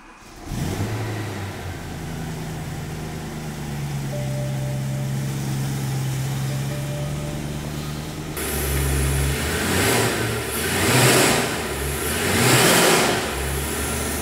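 A BMW M3 engine turns over and catches, settles into a steady run, then revs up several times toward the end.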